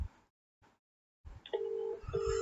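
A phone rings with repeated incoming calls: a few soft knocks and rustles, then a sustained electronic tone that breaks briefly and resumes over low background noise.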